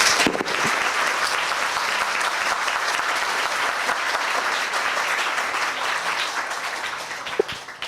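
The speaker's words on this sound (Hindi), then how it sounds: "आइए खुदा के लिए एक जोरदार ताली बजाएंगे आज।" A church congregation applauding loudly, dense sustained clapping from many hands that holds steady for several seconds before tapering slightly at the end.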